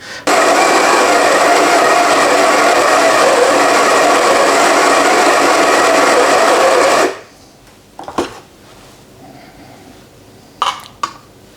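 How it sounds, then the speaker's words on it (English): An electric coffee grinder grinding beans for espresso, a loud, steady, close whirr lasting about seven seconds before cutting off, followed by a few soft clicks and handling knocks. "I've got a 15-second grind time, which should give me 18 grams of coffee"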